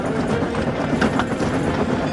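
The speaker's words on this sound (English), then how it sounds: "Murdoch soared down the line, rattling with the freight cars behind him" A locomotive hauls a string of rattling freight cars down the line, giving a steady, dense rumble with clattering, rhythmic clicks that stays loud and close throughout, with no voices.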